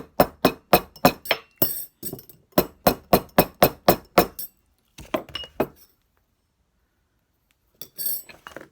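A metal ring is struck with a hammer on a ring mandrel, giving crisp metallic clinks in quick even bursts of about eight blows, then a pause, a few more taps, silence and a final short run.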